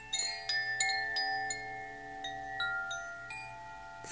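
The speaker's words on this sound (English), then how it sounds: "That was the water bell." A water bell rings with a series of gentle, bright metallic strikes whose clear tones shimmer and overlap, each hit sustaining and slowly decaying, heard close and alone in a quiet room.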